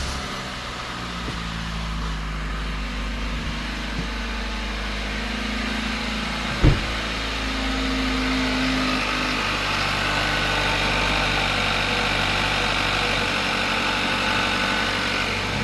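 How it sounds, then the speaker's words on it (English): A car engine idles steadily just after an oil change, with a continuous even rumble for the whole stretch, one brief knock partway through, and no distinct tappet ticking standing out. "bit of ticking at the start, it's just the tappets at the top of the engine"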